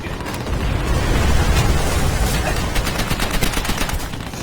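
Rapid machine-gun bursts and scattered gunfire from a World War II battle in Call of Duty: World at War, loud and sustained throughout with dense overlapping shots and no talking.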